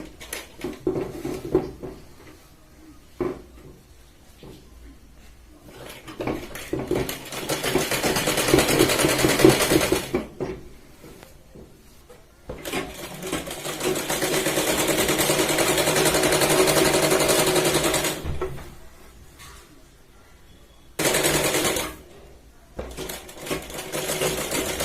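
A sewing machine stitches the pant seam of a Punjabi dress cut from a saree, running in several loud, sustained bursts of rapid mechanical chatter separated by quiet pauses.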